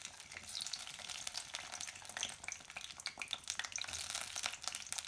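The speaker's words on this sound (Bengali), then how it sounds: "একটু ভেজে নিব" Garlic cloves with green and dried chilies frying in hot mustard oil for village-style greens give off a soft, continuous crackling sizzle. The sizzle is quiet and close, with faint stirring and no talking.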